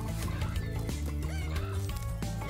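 Chicken clucking from Spyro the Dragon, repeated fowl clucks and squawks set over a loud, continuous game music bed, with no talk.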